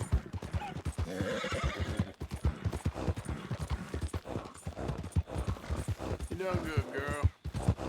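Horse neighing and clip-clopping hooves from a ridden horse in the Red Dead Redemption 2 video game, with whinnies rising near the end over steady, loud hoofbeats and game ambience.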